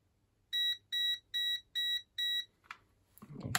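Multimeter beeping while testing an LED traffic light lamp run at 12 volts, five evenly spaced shrill electronic beeps, then faint clicks and a rising rustle.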